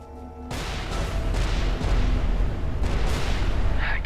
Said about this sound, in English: Please attain some distance while I detonate the onboard explosives.